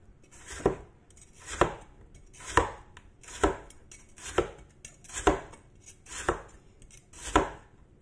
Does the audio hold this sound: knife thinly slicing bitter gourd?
yes